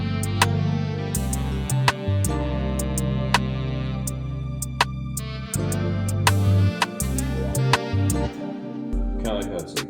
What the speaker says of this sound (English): The crash sounds like this